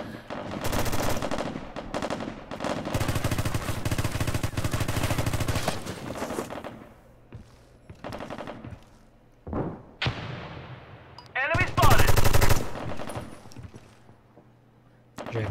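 Gunfire rattles through a competitive video game match in long, loud automatic bursts, with pauses and a few separate shots and thuds in between.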